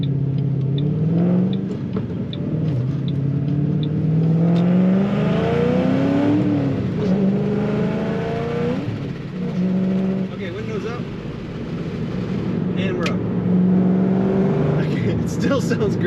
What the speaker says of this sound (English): This car has such an awesome sound when you're on the throttle.